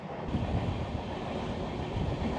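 Steady, loud wind rushes past a moving train in India, blending with the low rumble of the railcars in one continuous roar with no talking.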